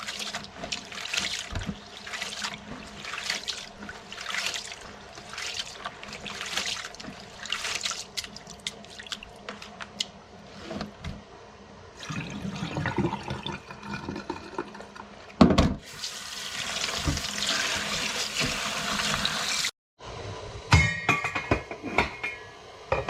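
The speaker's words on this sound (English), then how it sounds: "So we are adding, washing the rice now." Rice is washed under running tap water in a kitchen sink while a seim and potato curry is being prepared. Rhythmic swishing and splashing give way to a steadier rush of flowing water, with short pauses between pours.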